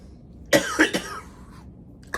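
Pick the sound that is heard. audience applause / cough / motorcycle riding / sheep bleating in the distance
cough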